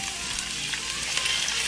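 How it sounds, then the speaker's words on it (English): Vegetables drop into a hot pan for shrimp and grits and crackle with a loud, steady sizzle and frying hiss. "I'm gonna go ahead and add my vegetables because I want these vegetables to cook."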